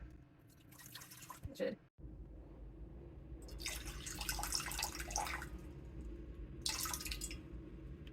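Room-temperature water for sourdough pours into a bowl in two or three streams of splashing, with brief quiet gaps and a low background hum.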